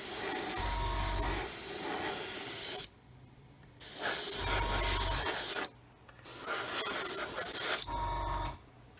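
Paint sprayed onto a 1/144 Roden C-141B Starlifter model as a light dusting coat, heard as three close, loud hissing bursts of a few seconds each, separated by short silences, with no talking.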